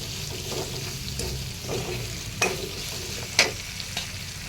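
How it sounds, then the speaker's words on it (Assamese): Onions frying in a pan for an Assamese chicken curry with bamboo shoot: a steady, soft sizzle with a few sharp stirring clicks and scrapes, close up, and no talking. "পিঁয়াজখিনি ধুনীয়াকৈ মজ খাবলৈ দিছোঁ"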